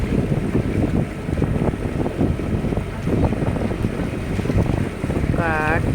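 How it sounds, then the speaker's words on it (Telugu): Boat out on the mangrove waters at Pichavaram, with a continuous engine drone and water rush under heavy wind buffeting the microphone, plus a brief voice near the end. "ఇక్కడ ఇలాంటి బోట్స్ కూడా ఉంటాయి"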